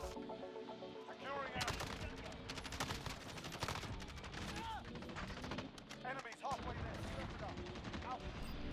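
Rapid bursts of Kilo 141 assault rifle fire in the Modern Warfare video game, dense repeated shots running almost continuously at close range, with faint game sounds mixed in.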